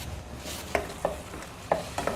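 Tomato and ground masala for a peas gravy being sautéed and stirred in a pan, with a soft sizzle broken by several sharp scrapes and clacks of the spoon against the pan, close and alone.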